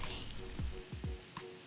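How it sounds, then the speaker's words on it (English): Portobello mushrooms sizzle in a grill pan. A soft, steady frying hiss is broken by a few short, quick spatters and clinks, fairly quiet throughout. "Let's get a grill or pan out. And let them sizzle."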